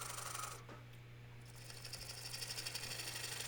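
A bowl gouge cuts into a crotch live oak bowl spinning on a lathe, giving a steady close scraping hiss over a constant motor hum, with a brief dip in the cutting partway through.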